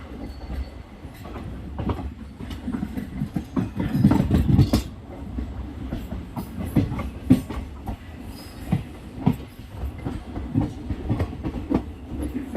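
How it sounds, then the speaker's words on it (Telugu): A DEMU passenger train switches from a dead-end line onto the main line, its wheels clattering rhythmically over the rails and points against a steady rolling rumble, with no voices. "ఇప్పుడే మన ట్రైన్ డెడ్ ఎండ్ లైన్ నుండి మెయిన్ లైన్లోకి వెళుతోంది."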